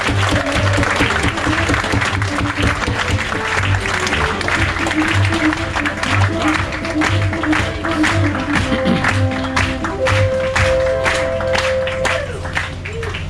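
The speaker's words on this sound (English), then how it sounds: "a thunderous round of applause for the master and commander of the Viking Vidar" Audience applause for the captain and hotel manager aboard the Viking Vidar cruise ship, a steady broad clatter of many hands filling the room throughout, with music and a voice faintly underneath.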